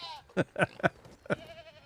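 Goats bleat in the farming video game Medieval Dynasty, four or five distinct wavering calls in quick succession, close and clear over a quiet background with no talk.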